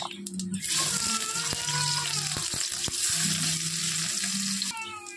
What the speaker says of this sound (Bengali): জিরেটা কালো হয়ে আসলে দিয়ে দেবো কেটে রাখা পেঁয়াজ।